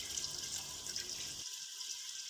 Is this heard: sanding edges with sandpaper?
no